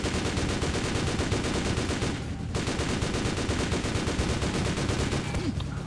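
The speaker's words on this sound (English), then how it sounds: "Y'all shooting me." Sustained gunfire aimed at the player in the video game DRIV3R during a chase in Istanbul: rapid, dense machine-gun bursts and shots, loud and nearly continuous, with one brief pause midway.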